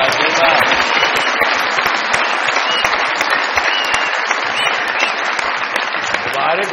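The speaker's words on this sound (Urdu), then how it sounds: "بہت ساری تالیوں میں سر ویلکم کہتے ہیں" A studio audience on a Pakistani comedy talk show applauds loudly to welcome a guest. Dense, sustained clapping carries close and even for several seconds, and no speech cuts through it.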